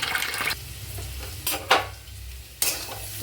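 Chira pulao with carrots and beans is stirred in a pan. A spoon scrapes and clatters against the metal in short bursts over a steady low sizzle.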